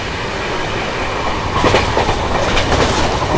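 Karnataka Sampark Kranti Express rolling through a ghat section, heard from on board as a loud, continuous rumble with a rhythmic clickety-clack of wheels over rail joints and faint squeal.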